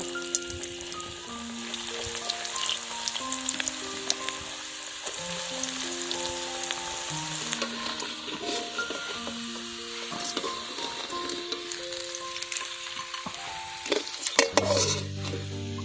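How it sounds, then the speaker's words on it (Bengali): Snacks frying in hot oil for a children's tiffin box, a steady close sizzle with occasional bubbling bursts, stirring scrapes and utensil clinks against the pan, plus a few louder clatters near the end. "প্রত্যেকটা স্ন্যাক্স এইভাবে ভেজে নেব"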